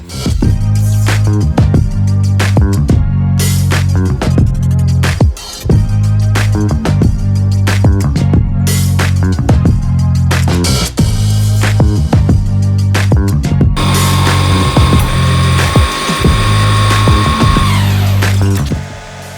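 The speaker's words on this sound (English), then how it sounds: "throw a piece of stock on the mill, throw a 1/4 inch end mill in there, and cut it out." Milling machine cuts stock with a 1/4 inch end mill, a loud continuous mechanical whir with rhythmic cutting pulses and brief pauses, shifting to a higher-pitched whine near the end.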